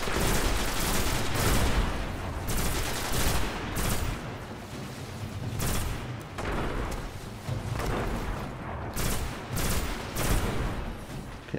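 Dense bursts of video-game gunfire from Destiny, heavy shots and rapid volleys repeating loudly almost without pause, with explosive thuds mixed in.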